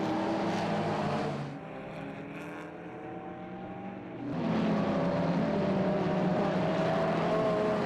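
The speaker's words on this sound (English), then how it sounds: "He's on the pace, attacking the Lucas Porsche with the Ferrari." Race cars including a Porsche and a Ferrari roar past during the 24H Dubai endurance race, a loud sustained engine drone that dips briefly then swells again with shifting engine tones.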